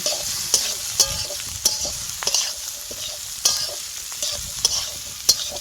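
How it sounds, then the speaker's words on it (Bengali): Soaked cashews and raisins fry in a pan, with a steady bright sizzle broken by sharp, repeated scrapes and taps of a spatula being stirred every second or so. "কাজু কিশমিশটা ভিজিয়ে রাখা ছিল এবার দিয়ে দেবো এটা ভালো করে ভেজে নেব"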